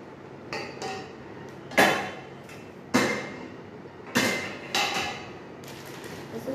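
Heavy metal idli plates clank and thud as they are handled, about five separate loud clattering knocks spaced through the stretch with quieter clinks between, close and without talk.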